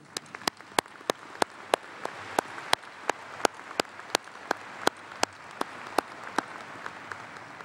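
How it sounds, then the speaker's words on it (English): Steady applause at a university graduation ceremony, a dense wash of clapping with regular louder claps standing out, sustained and even throughout. "I hope everyone else will join me in applauding you for all of your assistance"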